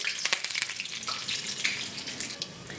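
Dried red chili, bay leaf and whole cumin sizzle in hot mustard oil in a pan, a steady close hiss with small popping crackles throughout.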